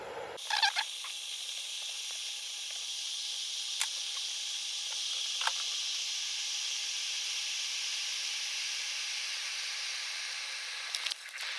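A pot of beer, sawdust and two-stroke oil heating toward a boil gives off a steady, broad hiss that holds evenly for several seconds, with a few faint clicks and knocks near the start and end.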